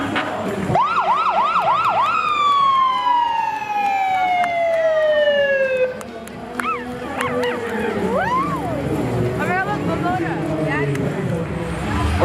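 Wailing ambulance and fire rescue squad siren cycling rapidly in a St Patrick's parade, then a long descending tone, followed by rising and falling whoops and horn blasts, loud and nearby.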